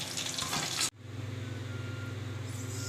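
Chicken pieces sizzling in hot oil for a crispy chicken fry, a loud broadband crackle that cuts off abruptly before settling into a steady, softer fry with a low hum underneath.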